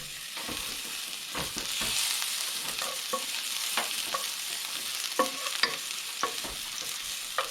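Ginger and garlic frying in about a teaspoon of cooking oil in a pan for a scrambled egg with cucumber dish, steady hissing sizzle with frequent spatula taps and scrapes, near and without talk.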